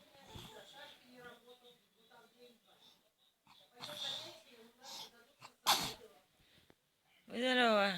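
A woman sneezes several times, each a sharp, close burst with breathy wheezy buildups between, while another person speaks quietly in the gaps.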